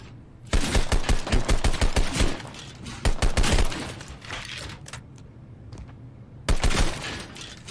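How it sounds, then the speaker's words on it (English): A pistol in Dr. Disrespect's NFT shooter game fires in loud, close bursts of rapid sharp shots, three separate volleys split by short quieter gaps, with no talking. "Let's see how this pistol does."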